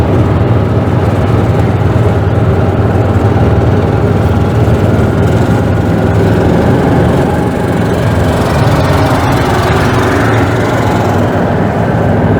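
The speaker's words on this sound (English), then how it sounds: "We can hear him. He had a gas Yep. car." A gasoline car engine runs continuously at close range, a steady, rumbling low droning idle that holds level throughout with no voices over it.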